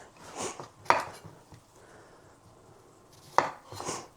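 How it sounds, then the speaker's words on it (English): A knife chops vegetables into thin matchsticks on a cutting board in a home kitchen, giving two sharp, close knock-like strikes separated by a quiet pause, with faint softer cutting in between. "I'm gonna cut these very thinly, like matchsticks, put it into a bowl and put it to the side"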